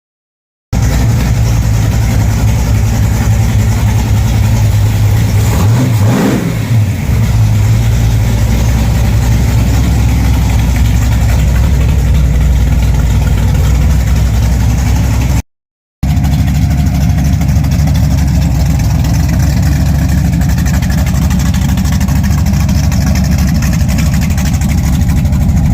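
A 350 Oldsmobile V8 runs in a car with a loud, steady engine drone for the whole stretch, broken only by one brief cut.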